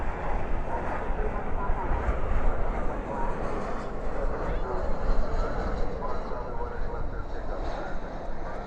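Iberia airliner landing at night at Dallas Fort Worth with spoilers up and thrust reversers deployed, a continuous rough engine roar at moderate distance, sustained and even.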